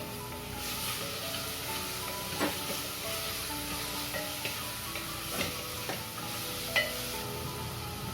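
Ginger and garlic sauté in a pan for a Kerala-style mutton curry, giving a steady soft sizzle with occasional spoon scrapes and stirring taps, close and unbroken, with no talk.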